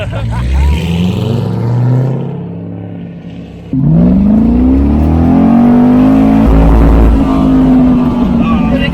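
Car engine revving hard while driving, a rising harmonic drone that climbs through the gears with a loud, sustained pull, mixed with cabin noise and voices in a C6 Corvette-related drive.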